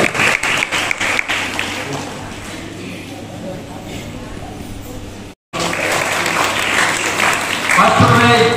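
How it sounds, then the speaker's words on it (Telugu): A crowd at a Sunday school New Year celebration claps loudly, with sharp uneven claps at first and then sustained applause, a brief cut, and more clapping with voices mixed in. "చప్పట్లు కొడతాం గట్టిగా"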